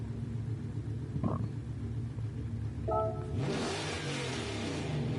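A Shelby GT350R fitted with a Bugatti Chiron engine in Gran Turismo 7 idles with a low rumble, then revs up into a loud, roaring growl that continues to the end.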